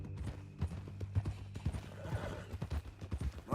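Horse hooves clip-clop in a steady walking rhythm with a whinny partway through, close and clear in the Red Dead Redemption 2 video game.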